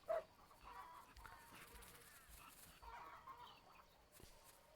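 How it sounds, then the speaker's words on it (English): Chickens cluck in an Australian outdoor game scene, faint scattered clucks and chatter spread across a soft, busy ambient bed of native wildlife sounds, with no voices. "Sounds like a lot of chickens, to be honest."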